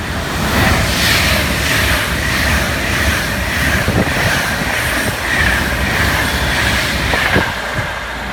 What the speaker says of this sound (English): The next train to arrive is the Virgin Pendolino